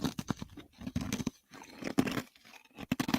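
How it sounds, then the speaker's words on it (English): Crunchy ice being chewed close to a microphone for ASMR, irregular bursts of crisp crunching and biting with brief pauses in between, fairly quiet, no talk. "ASMR ice chewing"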